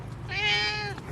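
A blind cat lets out one drawn-out meow lasting under a second, close and distinct over a steady low background noise, with no one talking.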